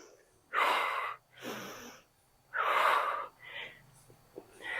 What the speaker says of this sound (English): exhale as you stand up